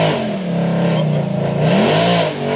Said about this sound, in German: Ja, das Auto hat sich kurz einmal verschluckt.